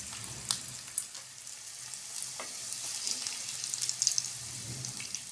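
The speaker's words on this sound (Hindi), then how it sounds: "घी गर्म हो चुका, अब इसमें एक एक करके डालते जाएंगे।" Snacks dropped one by one into hot ghee over medium heat fry with a steady bright sizzle, with a few soft plops and clinks near the start and a gentle bubbling swell later, no speech.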